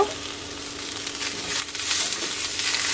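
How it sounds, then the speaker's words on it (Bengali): Cabbage and onion fry in a pan with a steady, close sizzle and soft crackle that grows slightly louder toward the end, with no voices. "এদিকে আমি বাঁধাকপিটাও হালকা করে ভেজে নিচ্ছি"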